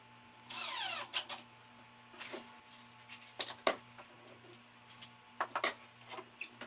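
A power drill whirs briefly in one short burst, driving screws into the back of a mirror's board, followed by scattered clicks, taps and knocks of handling parts in a quiet room.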